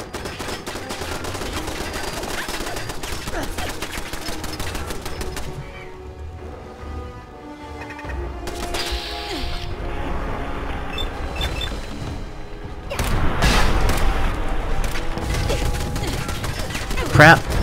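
Automated turret gunfire in Fallout 4 at the Corvega Assembly Plant, rapid bursts crackling among game sounds and music, swelling loud toward the end with a sharp final shot.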